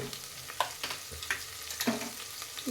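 Ginger sizzles and spits in hot ghee while being cooked for wedding-style ghee rice, with steady close frying crackle and a few louder stirring scrapes and taps in the pan.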